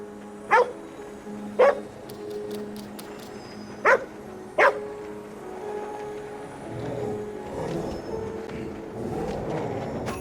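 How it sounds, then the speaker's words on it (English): A dog in the video game Ghostwire: Tokyo barks four sharp times in the first half, evenly spaced and close, followed by a low ambient game hum and faint rumbling. "Let's get the dog to call out the Oni."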